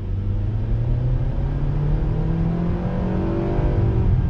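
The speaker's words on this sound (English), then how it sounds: "We're going to do an acceleration test." A 2020 Nissan Sentra with a 149-horsepower engine and recalibrated CVT accelerates hard, its steady engine drone rising in pitch with stepped, simulated shift changes, heard loud and continuous from inside the cabin.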